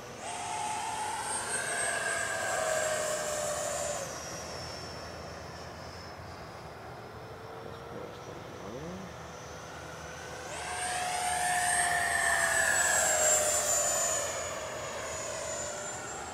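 An FMS Futura V2 RC model jet makes a fast pass, its turbine whine rising as it approaches, fading away, then swelling loudly again on a second pass, heard from the ground.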